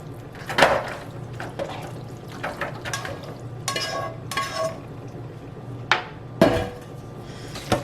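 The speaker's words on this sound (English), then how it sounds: "I'm gonna go ahead and add my meat mixture." Clattering of a metal pan and utensil as a meat mixture is scooped in and pushed around, with several sharp knocks and scraping bursts over a low steady background hum, no talk.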